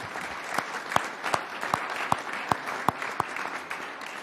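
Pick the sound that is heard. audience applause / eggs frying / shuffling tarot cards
audience applause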